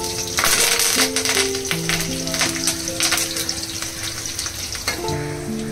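Curry leaves crackle and sizzle loudly as they hit hot oil in a home kitchen while festival dishes are being cooked, with a dense, steady frying hiss that keeps going throughout and some metallic clinks heard over it.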